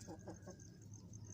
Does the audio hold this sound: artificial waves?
no